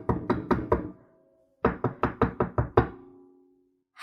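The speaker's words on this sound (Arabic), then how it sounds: "خبطت على الباب" Knocking on a bathroom door: four quick raps, a pause, then a firmer series of six or seven knocks, close and sharp with short ringing decay.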